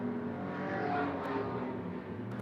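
Stock car racing engines at Ashburton speedway drone and whir steadily at a distance, a continuous faint rumble of several cars with slight swells as they circle the track.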